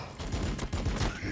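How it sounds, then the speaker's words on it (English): Video game gunfire from Warhammer 40K Battlesector: a dense volley of shots in quick succession with repeated bursts over a little more than a second, loud and fairly close. "They're shooting at me."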